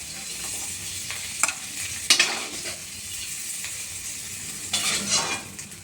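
Paneer cubes fry in a pan while being stirred, giving a steady sizzle broken by several sharp scrapes and clinks of a spatula against metal.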